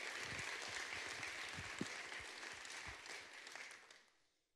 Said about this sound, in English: Let's give a big round of applause to the Academy for holding this thing.